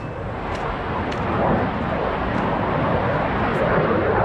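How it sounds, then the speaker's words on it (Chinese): A fighter jet passes overhead near Taitung airport and forest park: a loud, steady broadband roar that swells slightly partway through and holds to the end. "那个战斗机啊的声音好大。"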